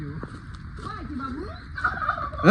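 Chickens in a Bangladeshi village household yard give a series of short, rising and falling clucks, fairly close, with faint voices in the background.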